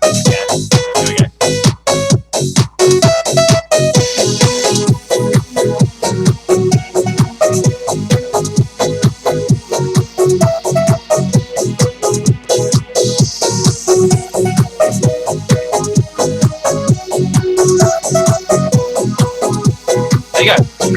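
A synthesizer plays the main elements of a modern song: a loud, steady rhythmic pattern of punchy beats and repeating melodic notes that runs continuously without speech.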